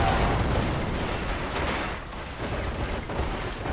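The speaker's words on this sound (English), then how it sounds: "Look at that explosion, that was just prettiest little explosion I've ever seen." A blast in the World War II strategy game Men at War 2 with the Red tide mod, a dense, noisy rumbling burst with crackling debris and battle din that stays loud throughout, no talk over it.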